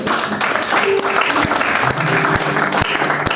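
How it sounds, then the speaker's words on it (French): A church congregation at a ceremony claps and cheers loudly together, a continuous dense roar of hands with scattered shouts and a few sharp thumps, heard up close. "Tu peux acclamer le Seigneur Jésus-Christ"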